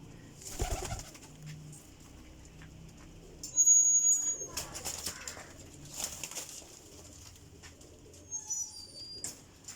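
Pigeons of a champion flying breed coo faintly at a loft, with soft bird calls, brief wing flaps and background talk throughout.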